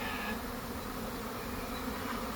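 A wild honeybee swarm buzzes steadily and densely for the whole stretch, a close, continuous drone with no pauses and no voices.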